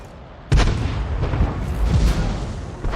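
A 105 leFH18B2 artillery gun firing a shell in World of Tanks: a single loud, close boom that opens into a sustained heavy rumble and roar, with no talk.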